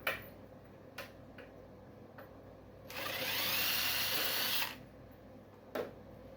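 A power drill driving screws into a rope traveler fitting, a single burst of motor whine lasting about two seconds between sharp clicks and taps of handling, close and otherwise quiet.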